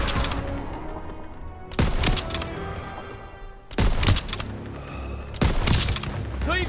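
Call of Duty WWII battle gunfire: loud, sharp rifle and machine-gun shots crack in several clusters over a constant rumble of combat.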